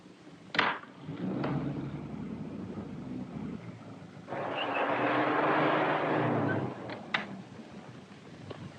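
A car drives along in a 1937 film, with a low engine rumble that swells for a few seconds between quieter stretches and a couple of sharp knocks.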